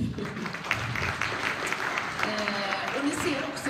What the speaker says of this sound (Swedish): En applåd, Olle.